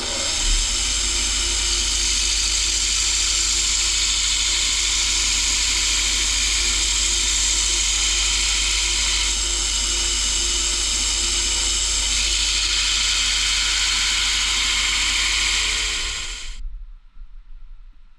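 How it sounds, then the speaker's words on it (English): Bench grinder steadily grinding bevels into a knife blade held in an angle guide jig, a loud continuous hissing, whining grind that runs unbroken for about sixteen seconds before cutting off abruptly. "once I've ground the bevels in on this using the grinding machine"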